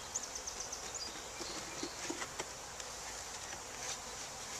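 Honey bees around a hive during installation of a package of bees, a faint continuous buzzing hum with a few brief sharper whines passing close, steady and alone with no voices.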